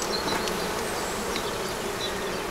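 Honeybees buzz at an open hive during a spring inspection: a steady, dense drone of many wings that stays close and even throughout, with no talking.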